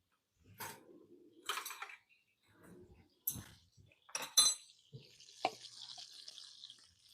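A metal spoon clinks against a pan while garlic crisps for a steak salad, with a few sharp, bright knocks and scrapes spread out at close range and a sizzling hiss near the end.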